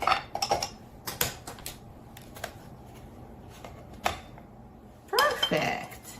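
A knife slices through a soft pumpkin cake, with clinks and scrapes against the plate, a few sharp taps, and a louder burst of cutting and handling near the end, all close by with no talking.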